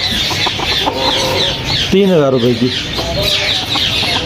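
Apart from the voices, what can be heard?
pair of bantam chickens clucking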